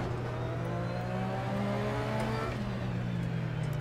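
A car engine in the racing game Assetto Corsa on the Nordschleife hums and revs steadily, its pitch climbing in smooth steps as gears shift, continuous and close with no talking.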